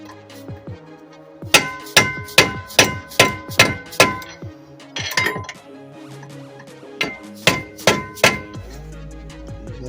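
A hammer taps an 18mm deep socket onto a Chrysler 300's rear brake hardware, giving a quick series of sharp metallic clinks, then a pause and a few more taps, close and without talk.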